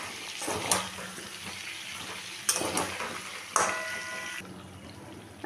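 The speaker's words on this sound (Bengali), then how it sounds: "দিলাম আদার পেস্ট, রসুনের পেস্ট, একটু ধনের গুঁড়ো, খুব সামান্য হলুদ গুঁড়ো, ভালো করে মিশিয়ে নেব" Ginger paste, garlic paste, coriander powder and a pinch of turmeric being stirred in a pan for chicken curry: a steady hissing sizzle broken by three sharp scraping bursts of the spoon, with no talking.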